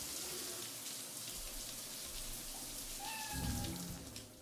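A shower running in the video game Cyberpunk 2077, a steady hiss of falling water with a brief cat meow near the end, and no talk.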